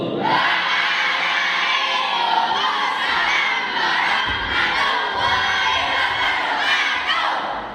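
A large group of children loudly answers a greeting in unison, a rising chorus of shouting voices that sustains for several seconds at close range, with some whoops and cheering mixed in.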